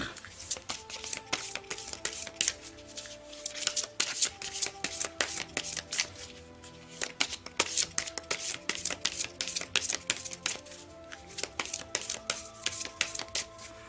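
A deck of oracle cards is shuffled by hand in bursts of crisp riffling and flicking, close and fairly loud, with brief pauses between rounds.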